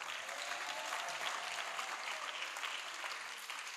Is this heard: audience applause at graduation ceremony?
yes